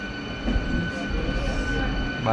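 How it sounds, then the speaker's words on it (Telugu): Low rumble of a MEMU express passenger train departing a station, with steady rolling noise and a faint squeal of wheels close by. "మన ట్రైన్ డిపార్ట్ అవుతుంది"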